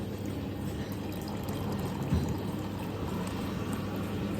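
Soda poured into a glass of liquor at a traditional Goa liquor shop, a steady fizzing pour running several seconds against a busy background, with a brief louder splash near the middle.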